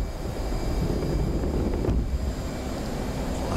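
A jet engine roars steadily at full power during a catapult launch in the DCS flight simulator, a constant loud rush with no break.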